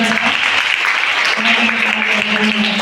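Loud, dense applause from an audience of students and guests at the inauguration of a school essay competition on global warming, steady clapping filling the whole moment.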